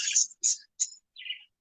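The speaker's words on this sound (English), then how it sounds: "I'll turn off the birds." Four short, high bird chirps in quick succession, clear and close against silence, with brief gaps between each call.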